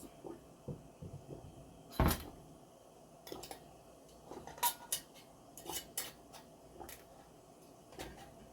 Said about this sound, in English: Into the canner it goes.